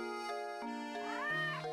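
A cartoon cat named Claudia in the Professor Layton video game gives a short run of bright, wavering meows, clear and close, with a rising and falling yowl near the end.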